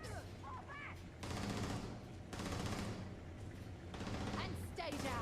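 Enemy gunfire in the space game Starfield comes in sustained bursts of shots over a dense, noisy game mix, with short gaps between volleys and scattered speech mixed in.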